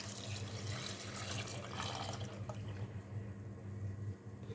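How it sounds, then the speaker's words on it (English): Milk is poured into a pot of rice for a Lebanese rice pudding, giving a steady, soft liquid pour and splash that runs for a few seconds before thinning out, close and quiet. "So we're now going to pour in the milk."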